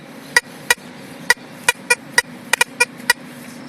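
A Tesoro Tejon metal detector over steel gives a series of sharp, short beeping tones at irregular intervals, each one brief and clipped, over a low steady background hum.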